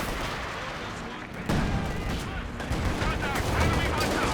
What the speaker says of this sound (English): Oh, Su-76 barrage rather.